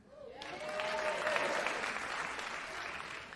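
A comedy stand-up audience breaks into sustained applause that swells quickly and holds steady, a dense wash of many hands clapping at moderate distance.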